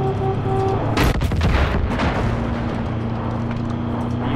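An explosive ray gun pistol fires in the co-op shooter Far Cry 5, giving one heavy booming blast with a short burst of follow-up cracks, loud and close over a steady game background. No talking.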